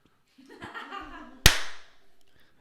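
A single sharp hand clap lands mid-clip for syncing audio, loud and close, ringing out briefly after murmured voices and a soft laugh.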